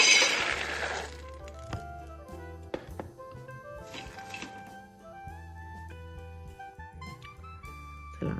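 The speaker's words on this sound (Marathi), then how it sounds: "सर्वप्रथम मी शेंगदाणे भाजून घेते" Peanuts roasting in a pan on the stove make scattered clinks and rattles as they shift and tap against the metal, close and moderate in volume with no talk.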